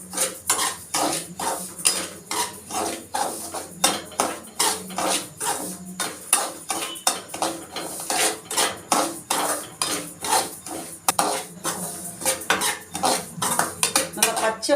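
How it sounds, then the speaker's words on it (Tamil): Large-grain semolina (rava) is dry-roasted and stirred in a metal pan for rava kesari, a spoon clinking and scraping against the pan in a steady, rapid rhythm close by, with no talking. "ரவை வறுத்துடணும். நல்லா. இது நல்லா பெரிய ரவை."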